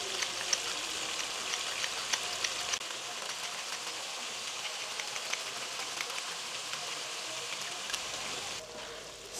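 Salted, peppered chicken pieces sautéing in a pan for restaurant-style pasta, giving a steady hiss and fine crackle throughout, close by and fairly quiet, easing slightly near the end.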